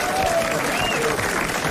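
A studio audience at a French radio-TV talk show applauds, a steady wash of clapping with voices talking over it.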